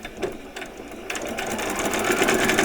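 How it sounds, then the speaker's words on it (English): A sewing machine runs steadily while back stitching the sleeve of small doll vet scrubs, its rapid needle chatter close and continuous, with brief bursts at the start. "you need to make sure you do a nice back stitch here on that sleeve"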